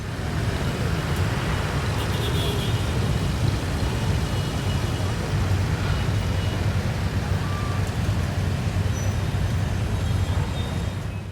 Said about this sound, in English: Airplane noises.